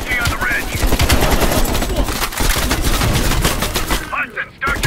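Heavy machine gun fire in the video game Call of Duty Black Ops Cold War, loud rapid bursts of automatic fire with overlapping shots, and voices faintly beneath the gunfire.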